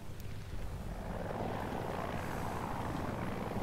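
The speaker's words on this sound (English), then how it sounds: "The Hind actually, I think, is the fastest helicopter to make up for the fact that it doesn't have a VTOL mode." A Super Hind helicopter in the video game Battlefield 2042 drones with a loud, steady rotor and engine roar that stays constant throughout.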